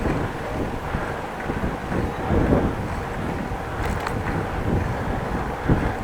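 Wind buffets the microphone while cycling into a headwind along a street in Groningen, a steady rough rumble with gusty swells, continuous and close, with no speech.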